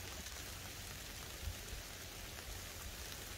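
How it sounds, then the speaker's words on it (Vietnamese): Steady rain falling outdoors, a dense even hiss of drops on surfaces with no break, close and continuous. "Trời mưa tới chạy kịp quá."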